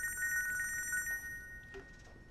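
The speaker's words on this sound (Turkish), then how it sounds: "Telefonu çalıyor." A telephone trills in a quiet room, a faint electronic ring pulsing in quick bursts for about a second before cutting off, followed by a small click.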